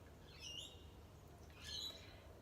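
Birds chirp faintly, two brief high calls about a second apart over a quiet, low background hum.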